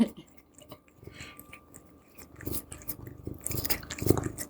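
A cat eats butter from a spoon, with soft repeated licking and chewing bites that grow busier toward the end, close and fairly quiet.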